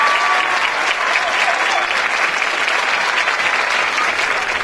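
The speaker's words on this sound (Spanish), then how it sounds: "Un aplauso para Rafael" Audience at a school stage production of Hairspray clapping, dense sustained applause from a large crowd that stays loud and even from start to finish.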